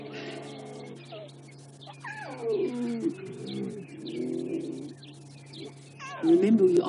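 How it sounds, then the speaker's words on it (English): Young lion cubs of a pride feeding on a buffalo kill try to roar, making strained, wavering moans and squeaky yowls close by, with a low engine idle and a person talking beneath. "It's always quite funny to listen to them try and join in when the adults do roar"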